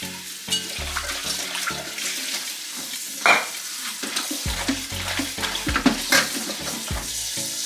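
Tripe being rinsed under running water in a kitchen, heard as close splashing and trickling with wet handling noises and a few sharp knocks against a bowl or sink, without talk.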